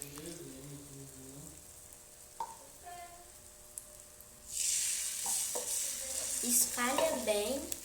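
Crepe batter sizzling loudly as it hits an oiled pan, a steady frying hiss that swells and persists after quieter stirring and scraping sounds, with a voice speaking briefly.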